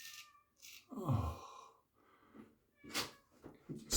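A cat nearby gives a short, strained meow, then several softer snuffles and little vocal sounds follow in the otherwise quiet room.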